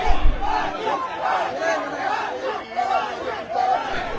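Large crowd of Maratha protesters at a march, voices merging into a continuous roaring chant with rising and falling surges, dense and close throughout.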